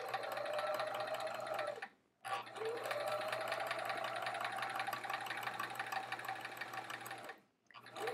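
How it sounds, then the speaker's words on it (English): Sewing machine stitching quilt pieces, a steady fast whirring hum that runs continuously, stops briefly twice and restarts, close up and alone with no talk. "I'm sewing pretty squiggly today"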